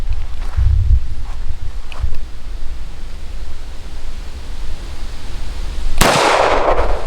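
A single loud gunshot from a World War II Army-issue Colt 1911 pistol cracks outdoors near the end, following a stretch of breezy ambient noise with a few faint thumps.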